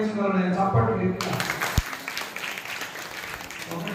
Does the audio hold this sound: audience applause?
yes